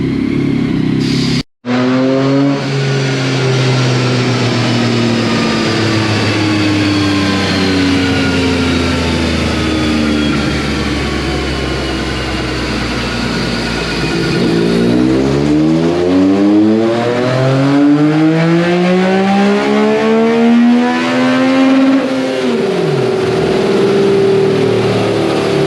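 A 2021 Yamaha MT-09 motorcycle, its ECU freshly flashed, revs hard on a dyno: loud, sustained engine tones climb and hold, cut out for a moment, then rise and fall in repeated sweeping revs, with no talking.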